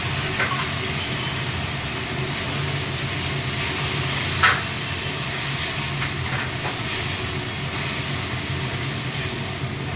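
Chilli fish sauces, including tomato and chilli sauce, bubbling and hissing in a hot pan after being poured over fried spices, a steady broadband sizzle running throughout with one brief louder spatter midway and no talking.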